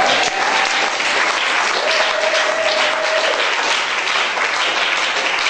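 An audience at a church service in Brussels breaks into loud, dense applause, many hands clapping without pause from start to finish, with no voice clearly heard over it.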